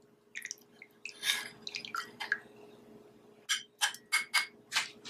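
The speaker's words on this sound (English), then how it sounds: "we're gonna strain this directly into the cup" A homemade drink strained into a cup, a series of soft splashy drips and clinks that come in uneven bursts and then turn into a quicker run of wet pours, close and quiet with no talking.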